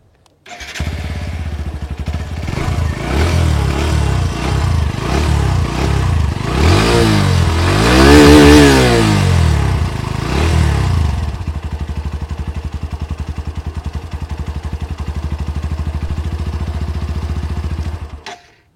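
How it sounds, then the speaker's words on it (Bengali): A 2025 Hero Glamour X 125cc motorcycle idles, then its exhaust revs up several times in rising and falling swells before settling back to a steady, loud idle. "আর এইবার তোমাদের এক্সস্টের সাউন্ডটা একবার শুনিয়ে দেবো।"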